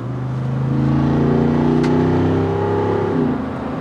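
A 2022 Jeep Wrangler 392 accelerating with its active exhaust open, a deep, loud V8 roar rising steadily in pitch through a gear before briefly easing near the end.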